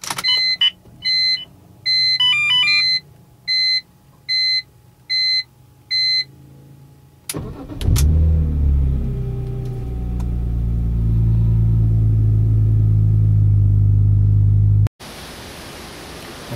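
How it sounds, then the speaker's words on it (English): A BMW E46 M3 starts up: a row of electronic chimes and beeps, then a sharp starter crank as the engine catches and settles into a loud, steady idle that drones on alone. "Here's the car in startup."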